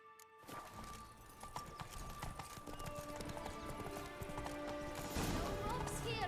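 Hooves of the horse Roach galloping in The Witcher 3 video game, a steady rapid clip-clop running continuously under game ambience and music, growing slightly louder toward the end.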